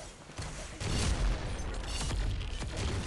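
A nuke explosion in Pixel Gun 3D sets off a deep boom about a second in, followed by a sustained rumbling roar that stays loud to the end.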